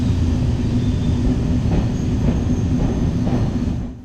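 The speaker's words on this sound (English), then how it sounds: "here's some clips from the awesome mountain railway which runs predominantly as a tourist attraction in these parts" Narrow gauge mountain tourist train running through the Pyrenees, a loud steady rumble of wheels on rails with faint rhythmic clacks and light squeals, fading slightly at the end.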